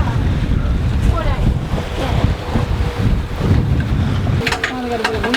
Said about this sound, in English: Oh, we got a bit of wind.